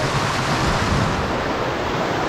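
A river in Benguet rushes steadily in a dense, continuous roar of flowing water, loud and close, with no voices over it.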